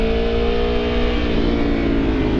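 Aprilia Tuono V4 1100 Factory motorcycle engine on the move, a steady loud droning hum with wind rush, close and continuous without any voice.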